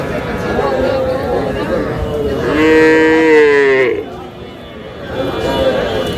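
A female calf lets out a single drawn-out moo amid the steady murmur and bustle of a crowded cattle market in Dhaka.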